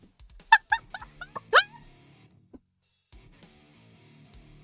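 A dog gives a few sharp, close yips and barks in quick succession within the first second and a half, followed by near silence with faint background hum.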